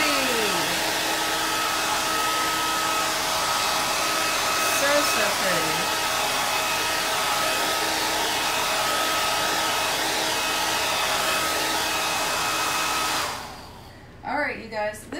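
A hair dryer blows steadily at close range for about thirteen seconds, drying Chalk Couture Chalkaology ink on a shirt, then switches off and leaves a few faint handling noises.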